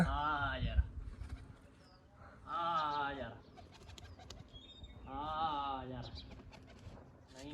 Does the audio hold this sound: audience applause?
no